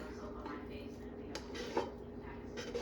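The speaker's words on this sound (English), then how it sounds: "I'm gonna stir that up" A spoon stirs hamburger meat into a pot of canned-bean chili with soft scraping and a few light metallic clinks against the pot, quiet and close, with a voice faintly present.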